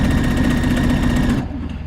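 Loud, close sewing machine stitching fabric in one fast continuous burst that cuts off abruptly, leaving a fading mechanical whir.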